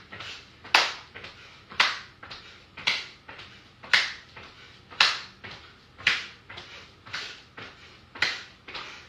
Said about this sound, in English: Arms loose, clap the hands over your head.